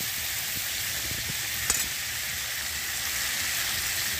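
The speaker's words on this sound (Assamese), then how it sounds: "এতিয়া আকৌ এইপিনে আহি গ'ল মাছ ফ্ৰাই হৈ আছে।" Fish frying in a pan at a picnic, a dense, steady sizzle close and loud throughout, with one brief sharp pop partway through and no talking.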